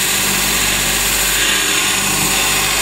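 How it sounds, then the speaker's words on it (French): A small belt sander grinding a knife blade to fit its handle gives a steady, high-pitched mechanical whine with a constant hum, running without a break, close and fairly loud. "la petite ponceuse à bande qui va me servir à ajuster la lame sur le manche"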